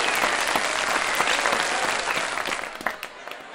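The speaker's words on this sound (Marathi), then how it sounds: "तसा सगळ्यांनी टाळ्या वाजवून कडकडाट केला." A crowd claps in a loud, dense burst of applause that holds steady and then thins toward the end, with a few scattered final claps.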